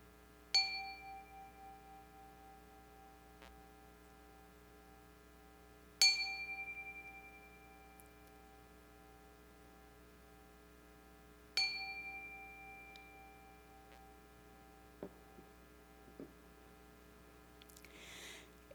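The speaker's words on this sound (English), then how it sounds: "let us settle our minds and calm our hearts with the ringing of our chime" Three struck strikes of a chime during a church service, each ringing out clearly and decaying slowly, spaced about five seconds apart in a quiet room, followed by a few faint taps.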